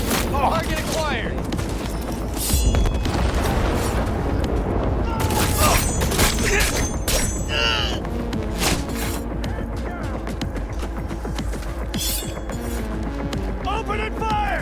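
Heavy gunfire fills a Cyberpunk 2077 firefight, with dense, continuous bursts of automatic shots and booming impacts throughout, loud and close, while voices speak over the battle.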